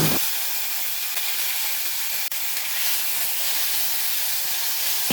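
Pieces of crushed elephant apple sizzle steadily in hot mustard oil with red chilli, fenugreek and fennel seeds in a wok, a loud, even hiss that continues without a break.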